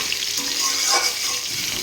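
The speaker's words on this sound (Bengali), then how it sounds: "এবার আলুগুলো ভেজে নিলাম, নুন হলুদ দিয়ে লাল লাল করে ভেজে নিচ্ছি।" Potatoes frying with salt and turmeric in a pan, a steady close sizzle of hot oil that continues without a break and with no voices.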